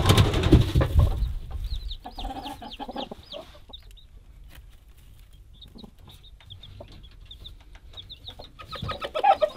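Chickens, including an Icelandic black hen, cluck and call in a steady series of short repeated notes at moderate distance, with rustling and feeding noises around them and louder scuffling at the start and end.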